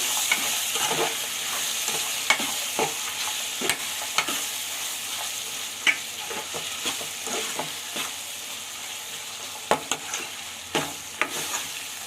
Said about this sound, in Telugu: బఠానీ అయితే వేస్తానండి ఒకసారి కలుపుకుందాము